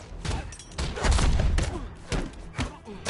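A gunfire volley in a Spider-Man video game rings out as a loud, dense burst of overlapping shots and thuds, followed by a few sharper separate reports.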